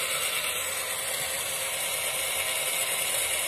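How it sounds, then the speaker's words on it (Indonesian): A miniature pulley winch machine running while pulling in its line; a steady, close mechanical whirring and ratcheting hum with no talk. "kita nyalakan tombol katrolnya"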